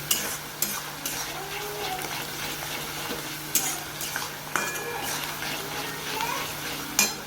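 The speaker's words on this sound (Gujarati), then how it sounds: "સતત આપણે આ રીતે હલાવતા રહીશું" Sev khamani mixture stirred continuously in groundnut oil: soft frying sizzle under repeated scrapes and occasional sharp clinks of a utensil on the pan, with faint background voices.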